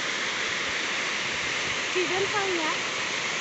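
Steady rushing water roars constantly from a nearby waterfall, with a brief voice rising faintly over it midway.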